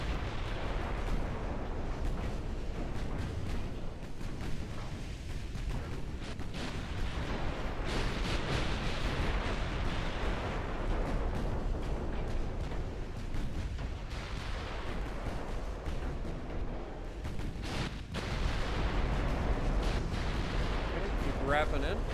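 A battleship is destroyed with gunfire in a naval combat video game: a continuous dense barrage of booming cannon fire and explosions rolls on at steady loudness throughout, with a voice talking underneath.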